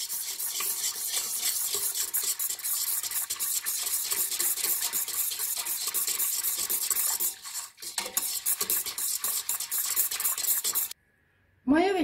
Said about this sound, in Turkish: Maya ve şeker eriyinceye kadar çırpıyoruz